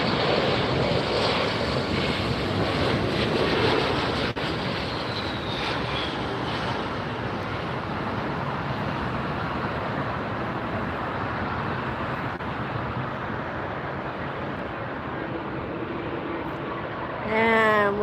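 A United airliner arriving at LAX rumbles past in a loud, broad jet roar with a descending engine whine, slowly fading, buffeted by wind noise on the microphone.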